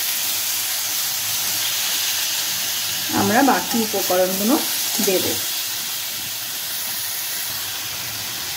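Tomatoes fry in a pan for Bengali-style tomato chutney with a constant soft sizzle and hiss. A person talks briefly over it partway through.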